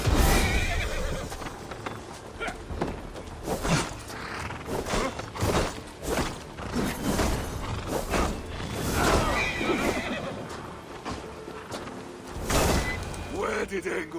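Horses neigh and whinny repeatedly with clip-clop hoofbeats during the Siege of Paris in Assassin's Creed Valhalla, loud and close amid game sound effects and voices talking.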